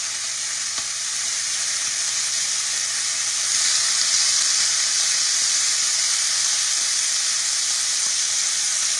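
Beef pieces fry in a skillet for a stroganoff, giving off a steady, close sizzle with faint stirring, loud and continuous from start to finish without any talk.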